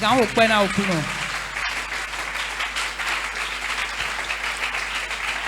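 A church congregation at a Sunday thanksgiving service applauds in sustained, even clapping that fills the room, after a brief spoken line over it.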